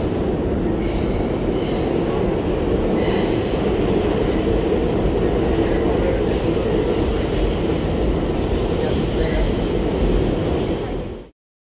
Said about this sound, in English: And just take a look at the sample from the train.